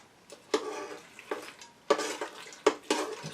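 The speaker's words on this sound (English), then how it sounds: "Stir up the oyster crackers into the soup" A spoon stirs oyster crackers into a bowl of soup, making several irregular scraping and clinking strokes with soft wet shuffling between them, close and moderately loud, without speech.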